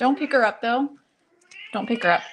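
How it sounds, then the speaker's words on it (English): A pet cat meows in the room, brief meows mixed in with nearby talk from a woman and a child, the calls close and fairly clear between the spoken phrases. "my girls are going to get my cat out of here because she's being so noisy"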